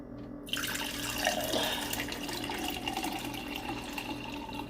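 Water runs steadily from a tap into a honey and seasoning mixture, a continuous close splashing fill that starts abruptly and keeps going, with no talk.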